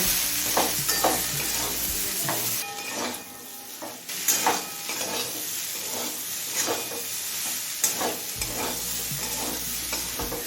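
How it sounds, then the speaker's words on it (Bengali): Vegetables sizzle in a pan for a methi greens chorchori, seasoned with turmeric and salt, while a spatula scrapes and stirs in steady repeated strokes; close, continuous frying hiss without talk. "এবারে সমস্ত সবজি আরও কিছুক্ষণ ভেজে নেব"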